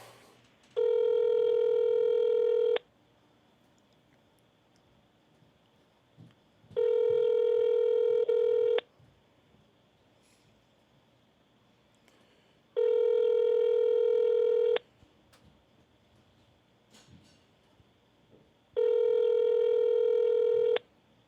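A phone call rings out over a handset: four evenly spaced ringback tones, each about two seconds long with pauses of about four seconds between them, heard clearly against faint background noise.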